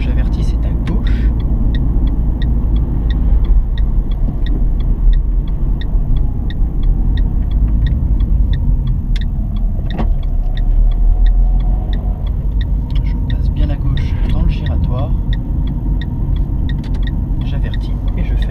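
A car drives through town and slows to 50 km/h, a steady low engine and road rumble with a rhythmic ticking indicator. A voice talks throughout.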